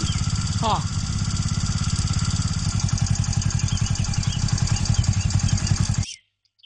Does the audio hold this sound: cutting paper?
no